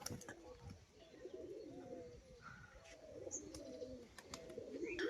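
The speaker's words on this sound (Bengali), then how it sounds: "তো বন্ধুরা এক পেয়ার তুরিবাস পায়রা দেখাচ্ছি" A pair of tumbler pigeons, one male and one female, coo softly and repeatedly at close range, their low throaty calls rolling along quietly with a faint voice occasionally in the background.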